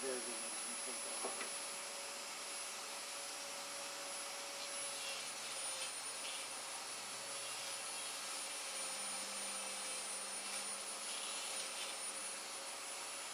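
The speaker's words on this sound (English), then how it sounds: "One thing I like about these Dremel type tools is that they're so easy to control" A Dremel-type rotary tool carving a wooden cane, producing a continuous high-pitched whine that holds steady throughout, fairly faint and close.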